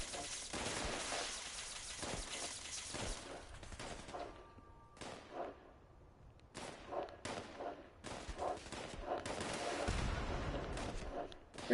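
Rifle fire in Fallout 76 during a fight with scorched creatures, with repeated shots and bursts crackling in a dense, steady stream of overlapping gunfire.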